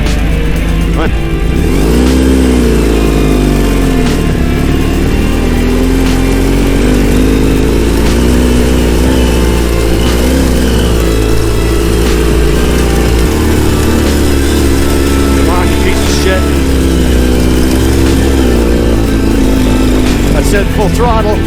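A Ural motorcycle engine is held at full throttle, a loud sustained roar with a wavering pitch. A voice speaks over it now and then.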